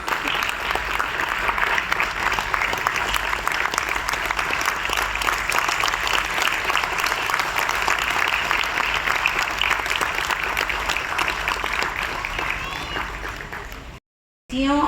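A crowd applauds steadily and loudly for several seconds at an RSS event for the Indian New Year, the dense clapping continuing without a break until it cuts off near the end.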